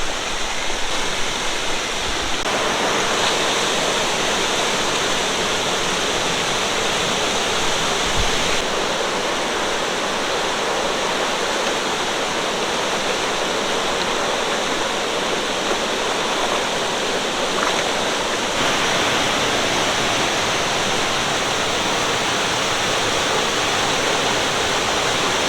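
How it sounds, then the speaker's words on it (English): A flood-swollen mountain stream and waterfall in the Great Smoky Mountains near Gatlinburg, swollen after Hurricane Ida, where a branch meets the river. It makes a loud, constant, close roar of rushing water, unbroken throughout, with no talking. "This branch comes down to meet the river,"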